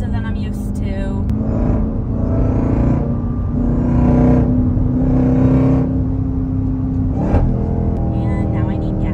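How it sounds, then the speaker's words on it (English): A supercharged Jeep Trackhawk with a newly installed intake revs in several rising and falling pulls, a loud whirring engine note with supercharger whine, mixed with talk. "I just feel like it revs so fast, like a bit faster than I'm used to."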